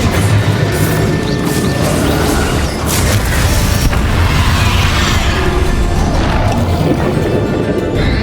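Confringo blasting spells explode over and over in Hogwarts Legacy combat during Bakar's trial, a dense barrage of loud crashes and booms layered on thick, continuous game noise with no clear pauses.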